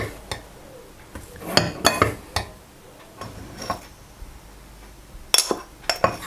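A spoon stirs sugar and cinnamon together in a bowl, producing scattered clinks and taps at an irregular pace, fairly close and quiet, with no talking.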